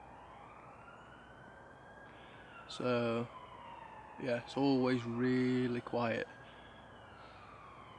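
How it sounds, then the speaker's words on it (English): A distant ambulance siren wails in a slow, rising and falling tone carried up through a wooded valley, faint but continuous under someone talking nearby. "there's this ambulance in the background wailing away"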